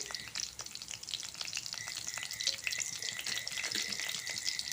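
Tirphal, green chili and curry leaves crackle and sizzle in hot tempering oil, a steady close frying hiss with scattered sharp pops and a faint stir throughout.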